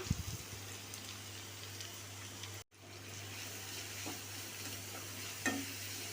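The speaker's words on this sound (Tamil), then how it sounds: "இப்போ நம்ம துருவி வச்சுருந்தோம் இல்லையா முட்டைக்கோஸ், அதை சேர்த்துக்கலாம்." Grated cabbage is stirred and sautéed in hot oil for cabbage poriyal, a quiet steady sizzle with soft scraping of the spoon throughout and a light clink near the end.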